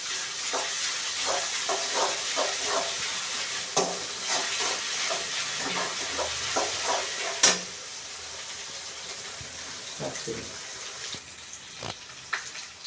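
Onions browned in a pan with ginger garlic paste, alongside mustard seeds, green chillies and curry leaves, sizzle steadily while a spatula scrapes and stirs in quick repeated strokes, close up, with one louder clatter midway.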